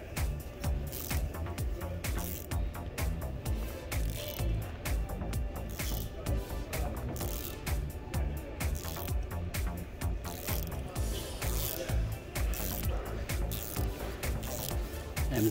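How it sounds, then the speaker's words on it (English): An Allen screw holding the drive unit of an RC 5500 is worked loose, giving dense, rapid mechanical clicking and ratcheting close by that runs steadily throughout without talk. "What I'm going to do now is to remove the Allen screw that holds the drive unit."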